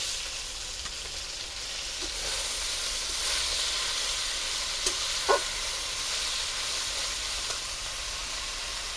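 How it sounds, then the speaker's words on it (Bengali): Washed red and ponka shak greens tossed into a hot pan for frying, producing a steady hissing sizzle with a few stirring clicks, close and alone. "কেটে ধুয়ে রাখা শাকটা দিয়ে দেবো"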